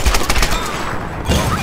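Rapid gunfire from the Tomb Raider video game, a dense burst of loud, close shots, then a short lull before more firing resumes.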